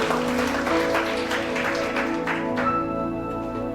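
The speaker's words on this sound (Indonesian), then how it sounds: "Beri tepuk tangan yang meriah buat Tuhan" A church congregation claps together during a Sunday worship service, a dense, sustained wash of applause that stays loud throughout before easing slightly near the end, with steady musical tones ringing underneath.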